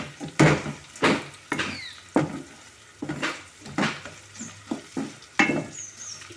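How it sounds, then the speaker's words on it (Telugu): Coriander seeds and garlic cloves fry dry in a pan: a rhythmic series of sharp scraping and stirring strokes about once a second, with faint sizzle between them and no speech. "1 టేబుల్ స్పూన్ ధనియాలు, 10 ఎల్లుల్లిపాయ గర్భాలు మొత్తం కలుపుకొని ఫ్రై అయ్యేదాకా వేపుకుందామండి"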